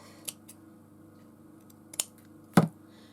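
Scissors snipping lace trim, a 1.5 double flower lace used for a shabby-style journal, give a few short, crisp cuts close by in a quiet room, with the last cut the loudest.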